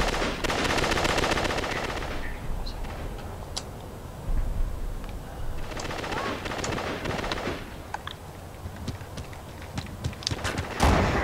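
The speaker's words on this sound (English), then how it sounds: "Shot him twice with a shotgun." Shotgun shots in Uncharted 3 multiplayer, heavy blasts in a busy firefight, the loudest near the start and end, mixed with other gunfire and scattered game effects, a voice briefly heard.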